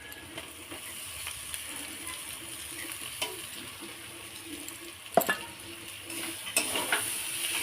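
Onion and taro fry in a pan with a steady, low sizzle, broken by a few sharp clatters of a utensil against the pan.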